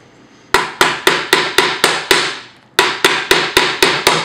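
Sharp metallic hammer strikes in two quick runs, seven blows then six, evenly spaced and loud, with a short pause between the bursts.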